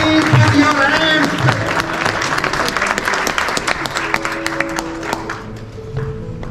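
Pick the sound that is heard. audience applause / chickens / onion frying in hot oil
audience applause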